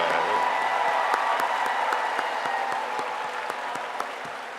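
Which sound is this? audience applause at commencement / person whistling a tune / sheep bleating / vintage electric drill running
audience applause at commencement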